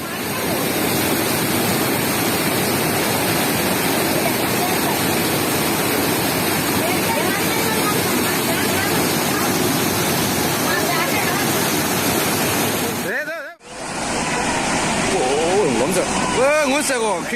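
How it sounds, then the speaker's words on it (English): Devastating floodwaters rush through the Indian state of Kerala in a loud, unbroken roar like a waterfall. The roar cuts out for a moment near the end, then the churning surge resumes. "Check out this devastating flood in the Indian state of Kerala"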